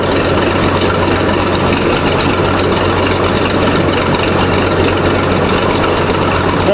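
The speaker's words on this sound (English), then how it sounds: "Pull this lever, and it'll put oil in that cylinder and tilt the blade." Engine of a 1953 International dozer running at a steady low idle while the hydraulic blade tilts, a constant loud close rumble with no talk.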